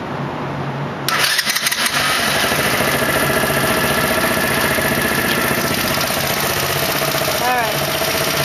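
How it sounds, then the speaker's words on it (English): An X18 Super Pocket Bike midbike engine starts abruptly after about a second and then idles steadily nearby, a busy buzzing putter that holds for the rest of the clip with no talk over it. "Now I'm just going to start my bike so you can hear what it sounds like."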